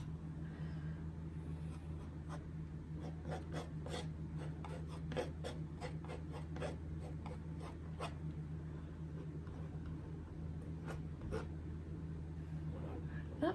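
A palette knife smooths paint across a canvas, making soft repeated rasping strokes that are faint and close, with a steady low hum in the background.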